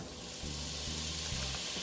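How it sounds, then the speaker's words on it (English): Steady, gentle sizzling of garlic frying in a pan, soft and continuous, with no one speaking. "We're gonna start frying the garlic."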